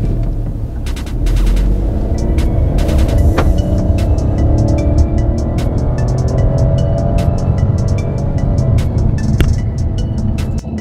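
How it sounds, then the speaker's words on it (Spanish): Fiat Pulse SUV with a three-cylinder turbo engine accelerating hard in sport mode, a loud continuous engine roar with rumbling, rising drive noise and sharp clicks and knocks throughout. "pongámosla en modo sport y vamos a ver qué tanto acelera esta camioneta."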